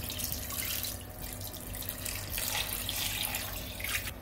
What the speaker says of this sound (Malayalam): ഞാൻ 4 കപ്പ് വെള്ളമാണ് ഒഴിക്കുന്നത്